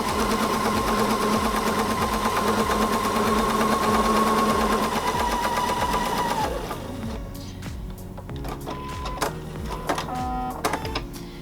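A sewing machine stitches quilt seams, running with a fast, steady mechanical whir and rhythmic clatter for about six seconds, then slowing into uneven, slower stitching with a few pauses, close and loud, with no talking.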